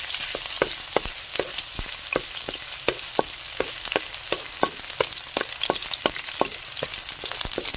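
Onion and garlic fry in a hot pan with a steady crackling sizzle, broken by regular sharp scraping clicks of stirring, close and continuous, with no voices.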